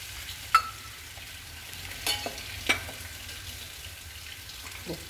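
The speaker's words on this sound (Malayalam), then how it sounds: "ഇത് നന്നായി ഇളക്കി കൊടുക്കുക." Chili powder and turmeric are stirred into a pachadi, with a soft, steady sizzle and a few sharp clinks of a spoon against the pan.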